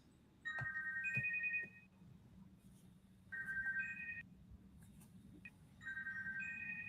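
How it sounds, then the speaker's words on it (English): Phone ringtone chiming in three separate bursts of a repeating two-tone electronic melody, fairly close and moderately loud against a quiet room, with faint background noise between rings. "My phone's ringing."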